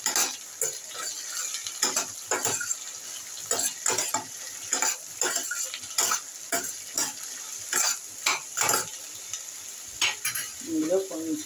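Ivy gourd stir-fries with dried red chillies and garlic in a pan, a spoon scraping and tossing in rhythmic strokes over a soft steady sizzle, close and clear, with a brief voice at the end.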